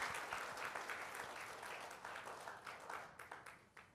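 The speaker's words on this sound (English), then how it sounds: "we give Atomy a big round of applause." An audience at a sales presentation applauds, a dense steady wash of many hands that thins toward the end into scattered louder claps.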